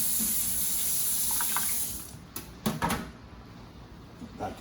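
Tap water runs steadily into a kitchen sink while food for stew peas with pigtail is rinsed, then the flow cuts off after about two seconds, followed by a few soft clatters and knocks.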